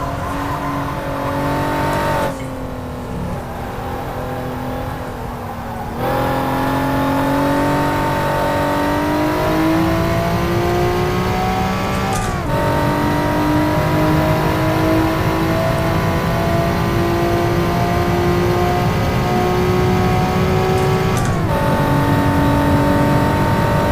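A Honda NSX sports car laps Suzuka circuit, its engine revving hard and climbing in pitch through each gear, with sharp drops at the upshifts, loud and continuous from inside the car.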